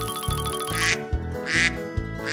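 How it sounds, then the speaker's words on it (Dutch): A toy duck gives a rapid series of loud, nasal quacks, clear and close, in about four distinct bursts. "Eend."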